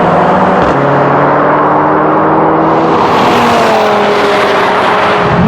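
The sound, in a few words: cars drag racing: RS 3, A45 AMG, Civic Type R, Golf R, Focus RS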